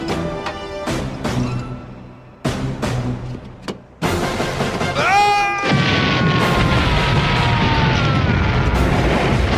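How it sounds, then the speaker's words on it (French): A grenade explodes in a TV action drama, a loud boom swelling into a sustained roaring rumble that follows a run of sharp tonal hits and sound effects. "Grenade!"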